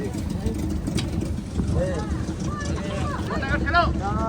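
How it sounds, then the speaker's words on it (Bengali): A motor boat on a dam lake near Suri runs steadily, its engine a continuous low rumble with wind buffeting the microphone, while people talk over it. "বোট চালু হয়ে গেছে, চালিয়ে দাও।"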